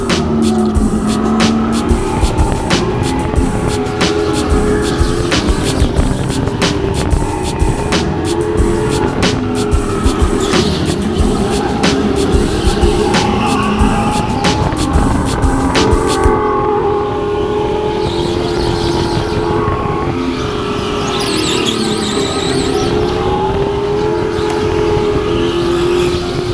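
Go-karts race around a huge indoor track, with engines buzzing loudly and continuously up close and tires squealing through the corners, and a quick ticking rattle during the first half.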